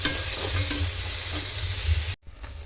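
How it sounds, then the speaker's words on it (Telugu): Cubes of paneer fry in hot oil in a pan for a restaurant-style paneer dum biryani, giving a steady close sizzle and hiss with a few stirring scrapes before it cuts off abruptly near the end. "నేను పన్నీరు ఫ్రై చేస్తున్నాను"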